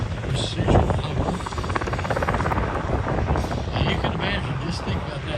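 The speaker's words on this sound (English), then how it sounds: "Helicopter pilot bringing the aircraft into a precision hover." A rescue helicopter holds a precision hover during an airshow demonstration at Cocoa Beach, Florida, its loud steady rotor thrum and turbine whine running throughout while a commentator talks over the public address.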